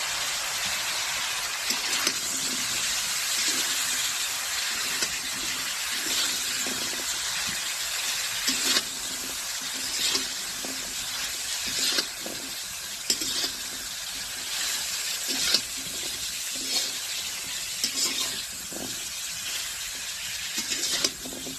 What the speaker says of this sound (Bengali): হাফ চা চামচ হলুদের গুঁড়া লঙ্কা গুঁড়ো এখন দিয়ে এটাকে আমি মিক্স করবো